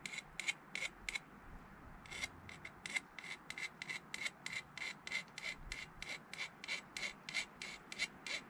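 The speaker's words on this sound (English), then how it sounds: "I'll take a file and I'll just kind of file the burr off the outside" A metal file strokes the burr off the end of a freshly cut brake line in quick rhythmic rasps, about two per second, close up and crisp, with a brief pause near the start.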